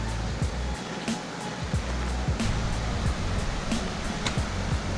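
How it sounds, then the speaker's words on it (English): A mountain creek rushes at a trail crossing on the route up Longs Peak in Rocky Mountain National Park, a loud, constant watery roar with faint clicking steps over it. "Real pretty creek crossing right here."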